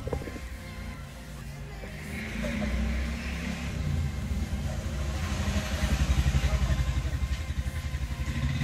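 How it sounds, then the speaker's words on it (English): A motorcycle engine running up and down a road nearby, a steady mid-pitched drone that swells and fades with a rhythmic throb, with faint voices in the background. "you see how this bike running up and down, they won't let me"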